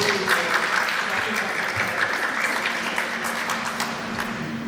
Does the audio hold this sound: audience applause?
yes